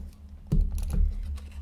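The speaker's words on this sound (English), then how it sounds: "So I'm gonna put some tape on the back of this" Sticky tape pressed onto the back of a small paper card piece for a homemade Father's Day card: two short, close rustling presses with tape crackle, quiet, no talking.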